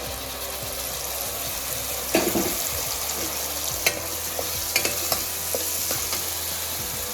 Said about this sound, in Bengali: একটু দুই তিন সেকেন্ড পর্যন্ত একটু নাড়াচাড়া করব